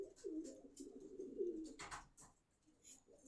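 Pigeons cooing in a loft, soft repeated throaty coos in a continuous low murmur, fairly faint and close, with a few brief scuffs and flutters between.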